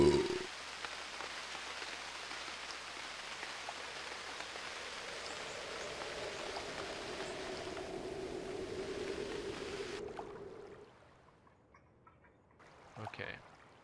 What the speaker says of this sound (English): we were awoken by the rain